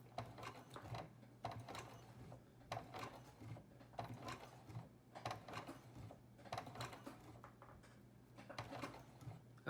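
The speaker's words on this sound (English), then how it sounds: "We're going to turn our speed all the way down. We're going to take it one stitch at a time." A sewing machine set to its slowest speed stitches thick material for scuba weights one stitch at a time, giving a steady series of separate, evenly spaced mechanical thumps over a low motor hum, quiet and close.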